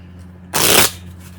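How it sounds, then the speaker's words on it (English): A deck of playing cards, one Joker removed, is shuffled in a single brisk riffle lasting about a third of a second, loud and close over a low steady hum, with no talk. "I'm going to shuffle now"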